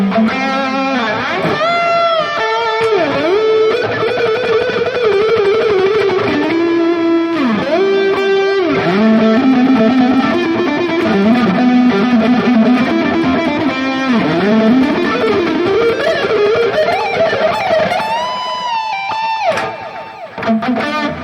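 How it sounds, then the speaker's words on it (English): Electric guitar through a Valeton GP-200 amp-modelling processor, heavily distorted, plays a continuous, sustained melodic line with bends and a thick, harmonic-rich tone, no EQ, loud and alone. "without the EQ, it sounds much more harmonic with distortion."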